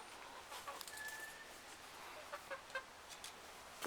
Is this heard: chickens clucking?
yes